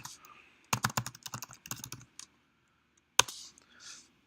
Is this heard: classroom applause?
no